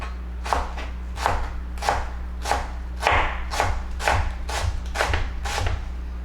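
Kitchen knife shredding a white cabbage on a cutting board, about a dozen crisp, evenly paced chopping strokes close to the listener, with a low steady hum underneath and no talking.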